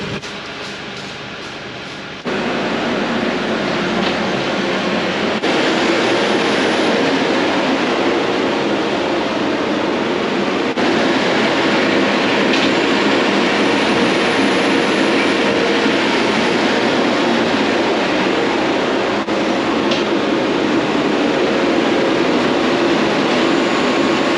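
A CAST MAXO pivot-steer loader drives and clears muck, its engine a loud, steady mechanical rumble that holds without letup from start to finish, with no talk over it.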